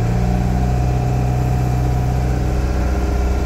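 A narrowboat's diesel engine runs on a canal at 2000 RPM, a loud, steady low rumbling drone with constant vibration, close and unbroken, with no talking.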